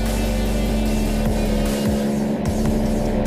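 A flying car in an Iranian GTA mobile game drones with a continuous engine hum, and short pitch sweeps rise and fall over the steady tone while it cruises along.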